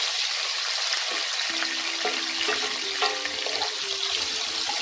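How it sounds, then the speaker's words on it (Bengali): Small potato pieces fry in hot oil with tempering spices for cabbage dhoka dalna, giving a steady loud sizzle with scattered light scraping and stirring clinks, no voices. "আলুগুলোকে আমি একটু লাল করে ভেজে নেব।"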